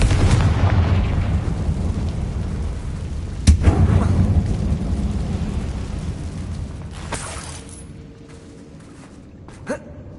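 A deep rumbling explosion from a Confringo fire spell in the Hogwarts Legacy video game inside a mine, loud low boom rolling and slowly fading with a couple of sharp cracks and debris.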